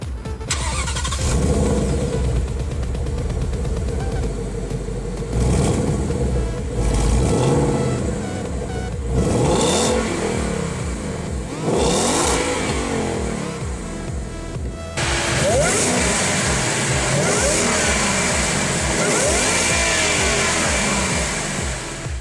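A 2017 Ford Mustang GT with a Roush supercharger drives off, its engine revving up and shifting through repeated rising pulls with brief drops between, loud and close, ending in a sustained high-revving run.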